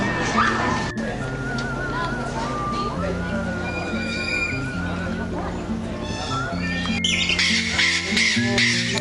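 Birds at Cebu Safari, a zoo park, give repeated loud, harsh squawks and whistle-like calls amid busy background sound with voices.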